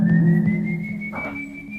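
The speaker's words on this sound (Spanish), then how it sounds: "Si el silbido está lejos, es porque el tunche está cerca." A long, steady human whistle holding one clear tone, with a slight pitch rise near the end, heard alone against a quiet background with a faint low hum.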